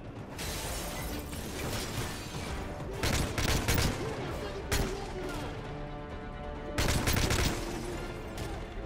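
Heavy gunfire during a Call of Duty: Modern Warfare 3 campaign mission, dense rattling bursts with several louder volleys standing out amid continuous combat noise, no voices.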